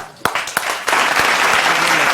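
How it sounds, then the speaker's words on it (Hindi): A studio audience on a television talk show starts with a few sharp separate claps that quickly build into loud, sustained applause filling the room. "तालियां!"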